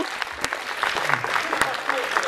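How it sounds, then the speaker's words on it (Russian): Audience applause at a Russian artistic fencing championship, a steady broadband patter of clapping with a few sharper peaks, fairly close and sustained, with a voice talking briefly over it. "Ну давайте похлопаем"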